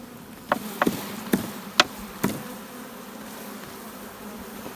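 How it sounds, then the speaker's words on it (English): Honey bees buzzing around hives during summer work on a hive foundation, a low steady drone under a handful of sharp knocks and taps from the equipment, with no talking. "Because we have a shit ton of bees anyways."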